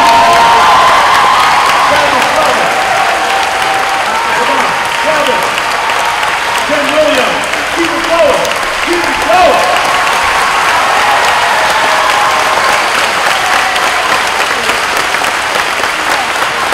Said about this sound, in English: keep on clapping, because the more you clap, the more calories you burn